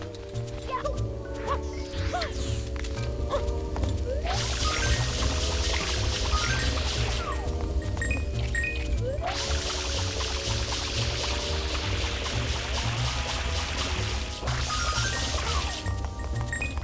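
Mario splashing around in water in Super Mario Sunshine, bursts of bright watery spray and pouring that come and go over steady game music, with no talking.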